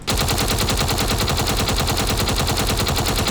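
Automatic guns fire in the video game Space Engineers as a dense, steady, rapid stream of shots at constant loudness with no talking.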